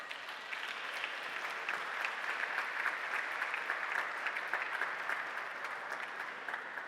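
Audience applause welcoming the winning team at an incubator showcase, steady dense clapping for about seven seconds with no voices on top.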